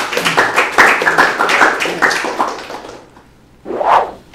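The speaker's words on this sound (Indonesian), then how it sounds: "tepuk tangan dulu yang paling berat" Group applause at a drumcorps interview session, a burst of hand clapping for about three seconds that fades out, then one short, louder flurry of claps near the end.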